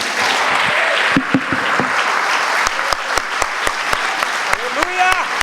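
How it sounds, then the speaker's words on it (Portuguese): Church congregation clapping hard, a broad continuous patter at first that thins into separate sharp claps near the end, with a voice rising over the close. "Aplauda forte."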